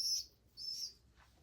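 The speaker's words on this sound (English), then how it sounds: "Beautiful, beautiful bird." A young, late-bred bird calls outdoors with two short, high, thin chirps followed by a fainter third note, fairly close and alone without voices.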